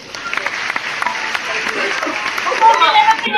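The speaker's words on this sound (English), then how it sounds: "Let's give her a round of applause." Studio audience applause for a guest on a talk show, a brisk patter of clapping building toward the end, with voices chattering underneath.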